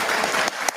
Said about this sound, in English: I didn't know they were allowed to applaud.